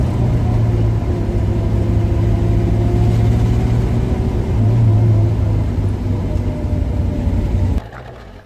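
A 1966 Ford Mustang V8 driving, its deep low rumble steady and close with slight surges in engine pitch, cutting off sharply near the end.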